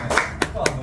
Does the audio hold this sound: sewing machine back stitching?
no